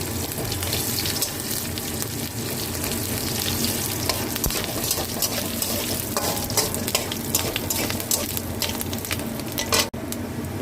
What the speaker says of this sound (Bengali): এবার জিরেটা ফোড়ন দিয়ে দিলাম।